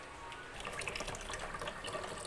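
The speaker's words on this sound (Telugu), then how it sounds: "ఇది 5 లీటర్ల వాటర్లో సగం వేసి కలపాలి." Honey is stirred and diluted into about five litres of water for feeding plants, giving a soft continuous sloshing and trickling of liquid, quiet and close with no speech.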